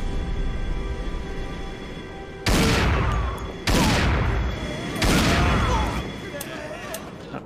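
Three heavy revolver gunshots in the video game Red Ocean, each a loud close blast with a ringing decay, spaced about a second apart over a low hum.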